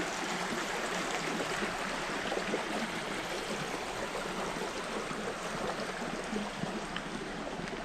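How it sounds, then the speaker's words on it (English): A stream runs through Custer State Park, South Dakota, in the early morning, with a steady, full rush of flowing water that continues alone without a break. "They have some streams running through."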